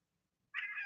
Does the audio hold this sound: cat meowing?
yes